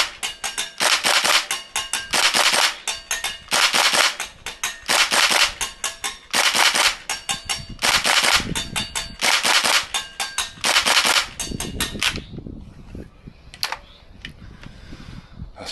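A Tokyo Marui AKM green gas airsoft rifle fires BBs in loud, rapid bursts of sharp cracks, repeated string after string with short pauses, then tapers off into a few scattered shots and quieter handling noise.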